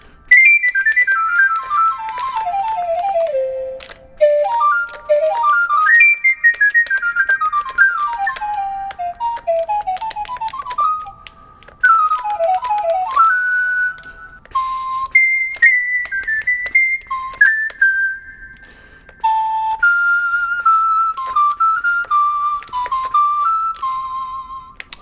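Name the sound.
NUX NES-1 electronic wind instrument playing a Chinese instrument voice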